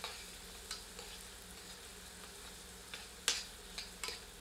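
Onions frying in a pan for chana dal, a soft steady sizzle at low level with a few sharp clicks and scrapes of stirring scattered through, no voices.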